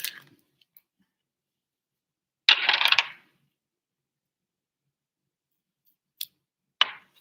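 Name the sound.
scissors cutting a piece of bucktail for fly tying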